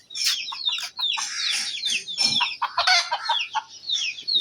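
Chickens cluck busily and almost without pause at close range, with rising squawks and a short crow-like call mixed in, set in a poultry-keeping space.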